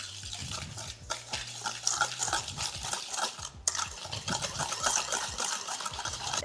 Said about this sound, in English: Now you're gonna whisk those two together.